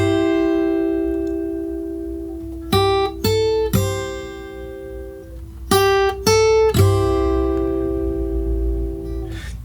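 Acoustic guitar plays chorus chords from a song in a fingerstyle arrangement, ringing sustained chords broken by sharp percussive body hits in two quick pairs, close and clear with no voice.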